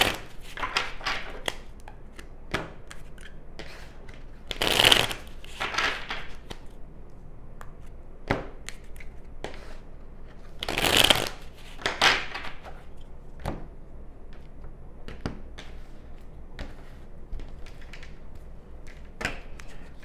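Tarot cards being handled and shuffled, a scattering of soft dry clicks and taps with two longer riffling bursts, faint and close in a quiet room.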